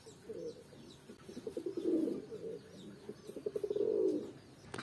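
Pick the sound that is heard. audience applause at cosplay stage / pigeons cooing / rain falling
pigeons cooing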